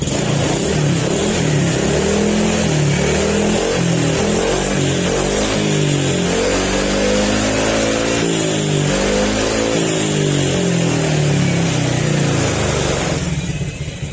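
A cold motorcycle engine revs up and down in repeated rising and falling sweeps over a steady loud idle, close by and continuous throughout.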